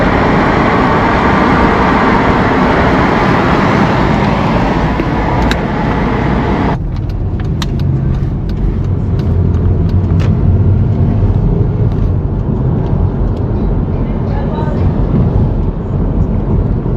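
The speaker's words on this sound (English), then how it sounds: "Look at that pure traffic coming this way" Steady, loud road traffic on a Jamaican road, a dense continuous roar of passing vehicles and engines that shifts partway through to a lower, rumbling tone, with no voices heard.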